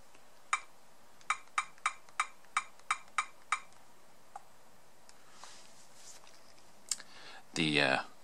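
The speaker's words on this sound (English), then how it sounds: "The keyboard is good and loud." Sharp keystrokes on the keyboard of a Binatone Homesurf 844 tablet, about ten loud, evenly spaced clicks in a quick run. A few scattered taps follow, then a brief burst of rustling at the end.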